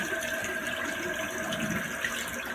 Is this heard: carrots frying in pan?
no